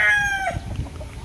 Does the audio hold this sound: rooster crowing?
yes